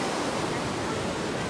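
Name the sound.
river flowing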